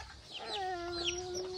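Chickens cluck on a mountain farm, with a short drawn-out call rising near and fairly loud over faint background noise, and no talk during the sound.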